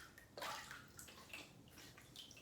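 Warm water splashes as it is cupped and wetted onto a face before a shave, several close soft splashes and trickles in quick succession, quiet with no talk.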